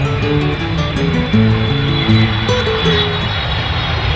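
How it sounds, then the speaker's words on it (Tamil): An aeroplane passes overhead with a loud, droning engine rumble made of layered tones that shift in pitch over the few seconds, close and steady, with no one speaking. "அப்பா, இங்க பாருங்களேன், ஏரோப்ளேன் போகுது"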